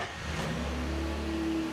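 A car engine close by, near a resort, holds a steady low revving drone that rises slightly in pitch throughout, loud and alone with no voices.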